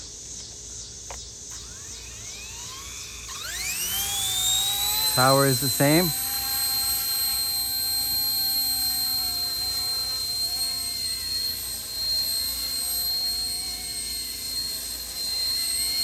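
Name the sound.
RC helicopter taking off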